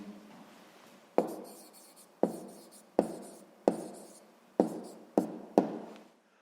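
A pen writes on paper in short, quick bursts, seven distinct scratchy strokes, each starting sharply and trailing off, close and quiet with pauses between.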